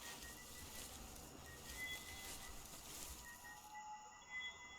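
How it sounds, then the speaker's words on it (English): Ambient wildlife in the hunting game theHunter Primal: a steady, dense outdoor bed with faint thin bird or insect-like chirps scattered across the clip, fairly quiet and continuous with no talking. "Like a ambient sound effect of some sort of bird or cricket or something?"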